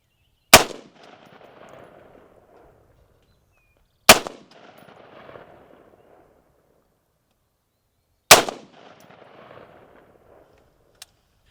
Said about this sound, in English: we're going to shoot it through the chrono, see how it's doing.